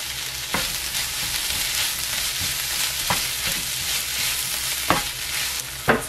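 Onions stir-fry in a pan with a spoonful of oyster sauce, giving a steady loud sizzle broken by a few sharp scrapes of the spatula against the pan.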